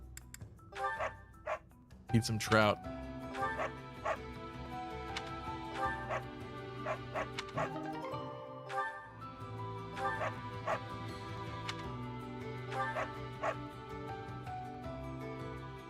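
A dog barks and yips in short bursts, with a couple of sharper barks early on, over background music with a person talking.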